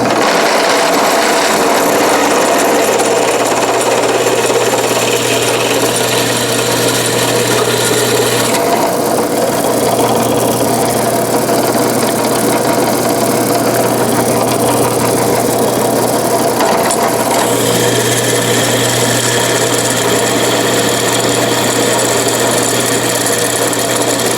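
A drill press grinds steadily through metal on a 1970 El Camino door handle, a continuous rasping whir that shifts in tone as the bit cuts deeper, with no speech.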